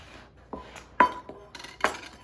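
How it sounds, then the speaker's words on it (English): Flour being stirred into dinner roll dough in a mixing bowl, heard as a few sharp clinks and scrapes of a utensil against the bowl, spaced irregularly and close. "And then I'm going to keep stirring and keep stirring."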